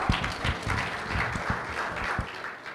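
Audience at a youth capital market forum in Kigali claps steadily, with a dense field of hand claps and a few sharper close claps standing out, lasting throughout.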